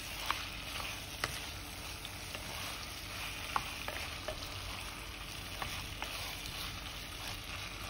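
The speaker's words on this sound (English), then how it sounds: "Can just give a good stir." Radish and potatoes stirred into a simmering sardine curry with softened tomatoes, producing a soft, continuous sizzle with faint scraping taps of a spoon throughout.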